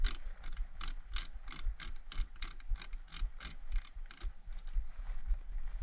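Reassembly of a Mossberg 500e shotgun, the barrel slid in and screwed down, giving a rapid, even train of close metallic ratcheting clicks with no voices.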